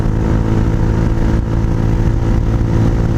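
Honda Hawk 250 motorcycle with a loud aftermarket exhaust riding along, its steady low engine drone and rumble loud and continuous throughout, with no talk.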